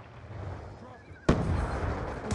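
A single sharp, loud report from a DSR sniper rifle in Black Ops II rings out partway through, following quieter game ambience and background noise, with a faint voice nearby.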